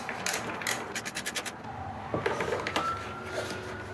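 Close, small scraping and ratcheting clicks come from tightening a battery tender pigtail connection on a Gen4 Ski-Doo terminal, a quick run of rhythmic clicks followed by lighter rubbing and a faint whine.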